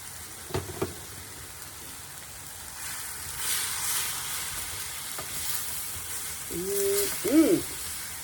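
Salted and peppered food frying in a pan, a soft continuous sizzle that swells slightly in the middle, with a couple of light knocks early and a short voice near the end.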